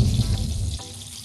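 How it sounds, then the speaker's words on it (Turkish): A soft, steady sizzle of garlic frying in melted butter in a pan, with low rumbling underneath, fading noticeably near the end. "Eriyen yağın içine sarımsaklarımızı atıyoruz."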